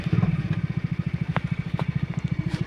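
A house owner's motorbike approaches, its engine putting out a steady, fast pulsing chug that stays prominent throughout, with a few brief clicks and clatters over it.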